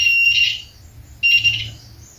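A multimeter sounds a continuity beep while testing the thermostat of a rice cooker that cooks but won't keep warm, giving two steady high tones separated by a pause, with no talk.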